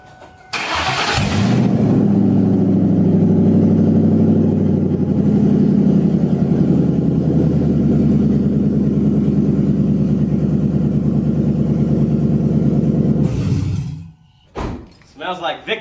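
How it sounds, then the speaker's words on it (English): A car engine idles loudly through open headers with the exhaust removed, a steady deep rumble with choppy pulses that starts abruptly and runs for about twelve seconds before cutting off, followed by faint knocks and shuffling. "I gotta hear my car with open headers"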